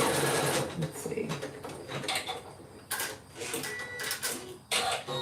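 Embroidery machine stitching a clutch in the hoop, a steady mechanical whirr with short pauses and restarts, under a voice that talks through most of it.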